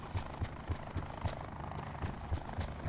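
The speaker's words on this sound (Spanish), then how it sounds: "Y el otro está en el helicóptero, siguió en el helicóptero." A helicopter in the video game Call of Duty Blackout gives off a steady, fairly faint rhythmic rotor thumping, about three or four beats a second, continuing throughout.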